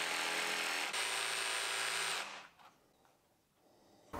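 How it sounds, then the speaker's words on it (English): A jigsaw cuts away material at both ends of an MDF drawer panel, running loud and steady up close for about two seconds before the motor cuts off, leaving near-quiet with faint handling noise. "then used the jigsaw to cut away material at both ends"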